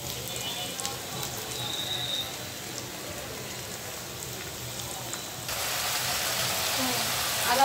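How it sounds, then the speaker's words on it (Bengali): Sliced onions sizzle in hot oil for a chicken curry, a steady crackling hiss that grows louder near the end, with faint talk in the background. "পেঁয়াজগুলো তেলে ছেড়ে দিয়েছি, পেঁয়াজগুলো হালকা ভেজে সব মশলা ছেড়ে দেব।"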